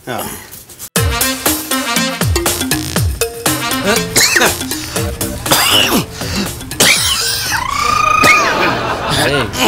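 A man coughs repeatedly in a Malayalam TV comedy scene set on a house-boat: harsh, close bursts in an irregular series, mixed with other voices and background sound.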